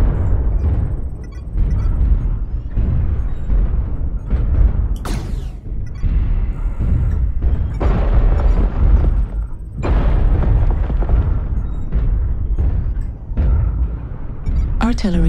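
Heavy artillery strike explosions in a mech combat game (HBK-IIC-A Hunchback on the Canyon Network map) boom repeatedly and loudly across the whole stretch, dense and rumbling, with game voice announcements and player talk mixed in.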